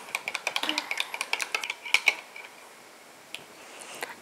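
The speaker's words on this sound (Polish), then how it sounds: "Do miski wlewam odrobinę bulionu. I wymieszam śmietanę." A spoon stirs sour cream and mushroom broth in a bowl, giving a quick run of rhythmic clinking scrapes against the sides that slows to a few scattered taps, close and clear with no speech.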